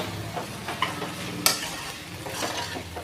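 Vegetables for veg biryani stirred while frying in a pan, a steady close sizzle broken by a few spoon scrapes and clinks against the metal.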